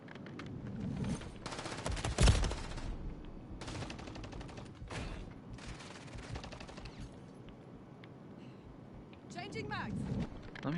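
Gunfire in the video game Modern Warfare 3: rapid automatic bursts and scattered single shots crackle through the clip, loud and close, with a sharp peak early on. A player speaks over the battle.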